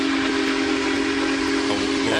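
A steady, loud, sustained steam whistle blows from the Big Boy steam locomotive built in 1941, holding one continuous tone alone with a hissing edge.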